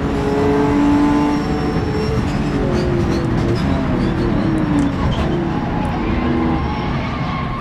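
A Porsche 917K race car engine in the rFactor 2 racing game at Sebring drones and revs with shifting harmonic tones, loud and continuous throughout, with no talking.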